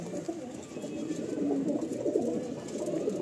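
Madrasi pigeons at a loft in Bankra, Howrah, coo softly and close by in repeated low, throaty rolls that swell slightly toward the middle.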